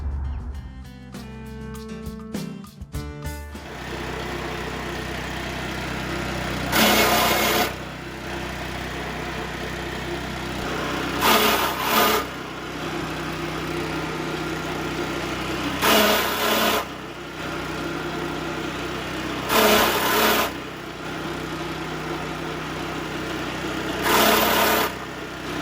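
A scarifier grinds steadily over a concrete surface with a constant engine-driven drone that swells louder every few seconds, after a brief clattering start-up.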